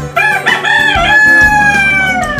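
Chickens kept in cages on a six-storey rooftop in Dhaka, tiger and local breeds, with a loud rooster crowing up close, a long rising-then-falling cock-a-doodle-doo over clucking.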